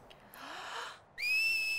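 A whistle in a Final Fantasy X game scene: a faint breathy rising tone, a short pause, then a sharp, piercing sustained whistle that holds steady to the end.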